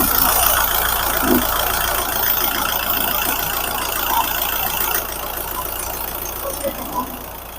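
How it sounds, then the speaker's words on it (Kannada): A Mahindra XUV 3XO compact SUV engine idles with a steady, even hum and a faint rattle. It runs continuously at moderate level, with some voices faintly in the background. "ಇಂಜಿನ್ ನಾಯ್ಸ್ ಅನ್ನ ಕೇಳಿ."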